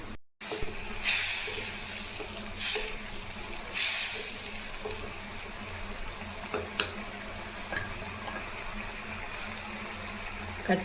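Potato fry masala simmering in a pan, a steady soft bubbling sizzle running throughout with a few louder hissy bursts and faint clinks, close by, with no talking.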